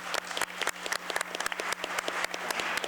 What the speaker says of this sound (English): You have now given our panelists a big round of applause.